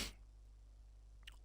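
A single sharp sneeze bursts out at the start, close and loud over a headset microphone during a Farming Simulator 25 session, then gives way to steady low electrical hum.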